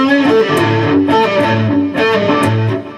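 Distorted electric guitar plays a riff, loud and close, with sustained overdriven notes stepping through the phrase alone, without talk.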